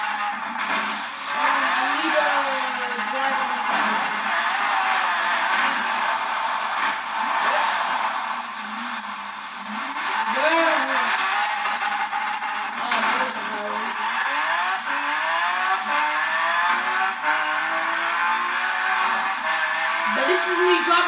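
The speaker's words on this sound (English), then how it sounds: "This is me driving a Camaro" A Chevy Camaro in Forza Horizon 4 roars continuously along a highway, its engine pitch rising and falling through gear changes with some tire squeal, steady and loud throughout, with occasional voices mixed in.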